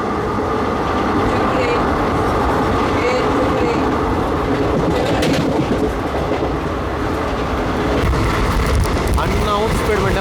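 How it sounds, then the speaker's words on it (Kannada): The Rajya Rani Superfast Express rumbles along at speed with a steady, loud roar and faint clickety-clack of wheels over rail joints, heard continuously from on board. "ರಾಜ್ಯರಾಣಿ ಸೂಪರ್ ಫಾಸ್ಟ್ ಎಕ್ಸ್ಪ್ರೆಸ್."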